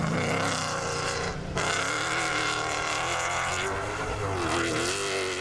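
A Toyota Hilux Overdrive rally car at the Baja Portalegre roars loudly and continuously, its engine note rising and falling with revs and gear changes, and speech can be heard beneath it.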